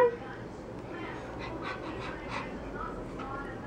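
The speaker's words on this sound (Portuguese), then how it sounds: "Essa é uma cachorrinha." A small female dog pants softly and quickly in a quiet room, the breathing faint and continuous, while someone talks over it.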